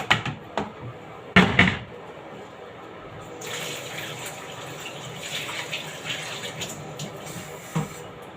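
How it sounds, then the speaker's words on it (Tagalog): Water runs from a tap into a bowl to soak a cut onion, a soft gushing stream that follows a few sharp clatters of handling, moderately close and steady. "Tapos ito, ibabad ko siya sa tubig."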